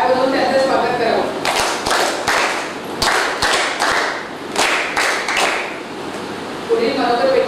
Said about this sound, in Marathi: त्यांनी सगळ्यांनी टाळ्या वाजवून त्यांचं स्वागत करावं.